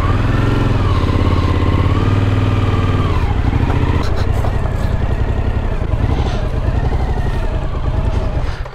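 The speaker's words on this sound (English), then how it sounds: "So we've just got to ride the bike in and then work out the details with him." A motorcycle rides slowly into a campsite in the mountains of Brazil, its engine loud and close throughout, a steady low idle and rumble that shifts pitch as the throttle changes.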